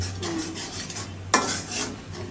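A spoon stirs spice masala with garlic and ginger paste in a pan, giving continuous close scraping over a soft sizzle, with one sharp knock against the pan.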